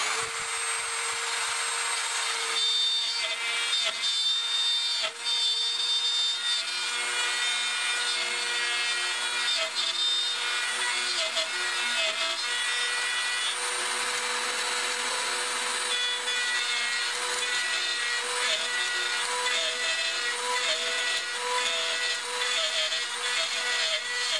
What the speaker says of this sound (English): put on some safety glasses, and just start routing out the middles